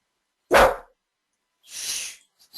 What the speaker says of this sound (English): There's a dog in this computer somewhere. Yeah. You can hear it.